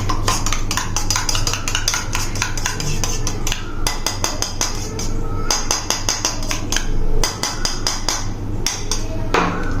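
A spoon stirs honey into sabja seeds and almond gum in a glass, making rapid, close, ringing clinks and taps in quick irregular bursts.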